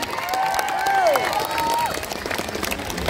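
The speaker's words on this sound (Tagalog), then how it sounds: "Palakpak mga silingan!" A crowd claps and cheers in a dense wash of noise at a political rally in Kidapawan City, while a voice rises above it.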